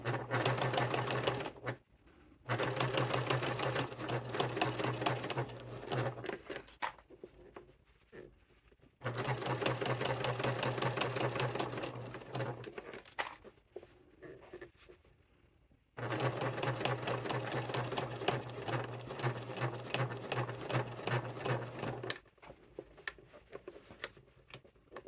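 A sewing machine stitches a satchel in three long runs of steady rapid whirring, separated by short quiet pauses, close and clear with no talking.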